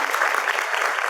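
Dense audience clapping in a school auditorium, sustained and evenly loud for the whole moment, with no talk over it.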